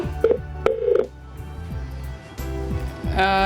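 Telephone line tones on a call-in show: a few short dialing beeps, then steady electronic line tones, clear and fairly loud.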